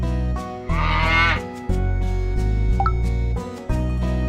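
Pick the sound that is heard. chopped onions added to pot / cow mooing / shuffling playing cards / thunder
cow mooing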